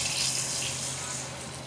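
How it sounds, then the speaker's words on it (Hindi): Water pours steadily into a cooking pot of roasted chickpeas for chana pulao, a broad close splashing rush that fills the whole moment. "तो अब इसमें मैं 4 गिलास पानी शामिल कर देती हूँ"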